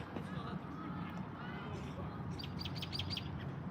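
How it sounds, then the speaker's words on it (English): Small birds chirp in quick high bursts outdoors, a cluster of bright tweets near the end, over a steady background hum and faint distant voices. "Hear the birds."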